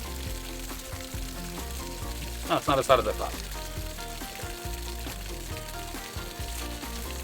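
Hot water drains from an RV water heater tank, a continuous splashing rush with a brief louder burst partway through, while a person speaks over it.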